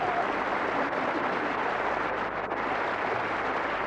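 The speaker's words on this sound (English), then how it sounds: "you've got to applaud incredibly enthusiastically" Loud, steady audience applause and cheering from a live stage revue crowd, a dense continuous wash of clapping that holds at the same level throughout after a card flourish with four aces.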